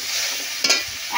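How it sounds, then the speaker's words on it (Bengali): Spice paste fries and is stirred in a pan, a soft steady sizzle with a brief scrape of the spoon midway. "মশলাটা বেশ ভালো করে কষাবো।"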